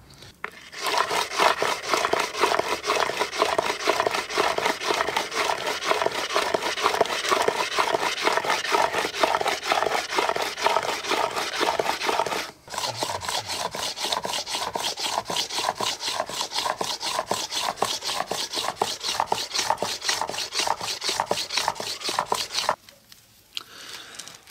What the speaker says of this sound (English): I grind them into flat slabs, and then I continue to grind until I have the thickness I desire.